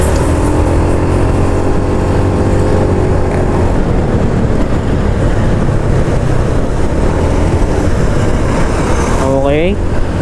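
A 2021 Honda Beat FI scooter overtaking in traffic, its small engine droning steadily under wind rush, with other traffic passing close by and a rising whine near the end.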